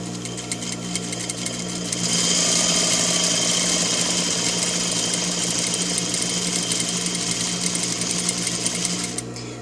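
A sewing machine stitches fabric for gathering, its motor starting with a rising whir and then running as a steady, close, fast mechanical buzz, alone with no talk.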